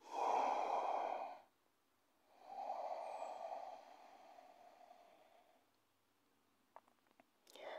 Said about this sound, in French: Encore une grande respiration.